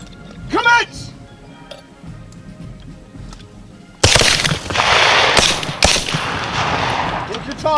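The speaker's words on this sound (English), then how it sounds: "Independent firing!" Rifles crack in a military-style shooting event, sharp loud reports starting midway and repeating irregularly as independent fire, with shouted commands beforehand and outdoor ambience.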